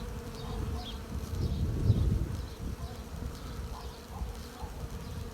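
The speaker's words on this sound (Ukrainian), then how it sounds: "Прилетів до нас рій." A swarm of bees arrives at an apiary, a dense, continuous buzzing drone of many insects that hums steadily nearby, swelling slightly midway with individual bees zipping past.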